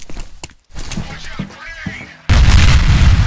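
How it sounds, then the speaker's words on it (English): A grenade detonates in the first-person shooter F.E.A.R., a sudden loud booming blast that fills the end of the clip after scattered gunfire, footsteps and quieter game sounds. "I'm gonna throw a grenade down there and just..."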